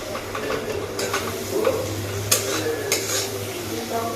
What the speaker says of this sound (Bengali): তো মশলা এখন ভাজা হচ্ছে